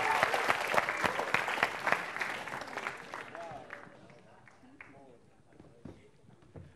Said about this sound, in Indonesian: tepuk tangan untuk Abdel